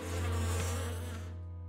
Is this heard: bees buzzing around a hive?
yes